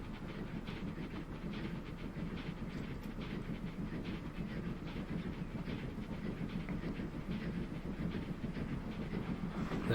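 A steam train pulling coaches in the video game Transport Fever 2 chugs steadily along, a continuous rumble with rhythmic puffing and clattering wheels, heard alone at a moderate, even level.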